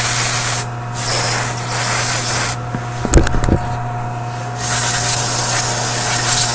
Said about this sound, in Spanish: Entonces, tenemos nuestro contact cleaner acá.